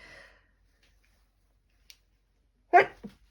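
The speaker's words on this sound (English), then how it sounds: "I'm going to sneeze, sorry." A single sharp sneeze bursts out close by after a stretch of near silence, followed by a short, softer breath.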